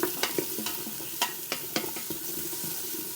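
Onions, celery and carrot sauté in an Instant Pot with salt and pepper. A close, soft sizzle runs throughout, broken by repeated sharp scrapes and clacks of a spoon stirring the vegetables, with no talking.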